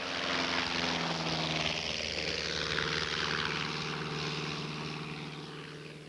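Steady, loud roar of an airplane engine and propeller during takeoff, a continuous drone with a slowly shifting pitch, no voices.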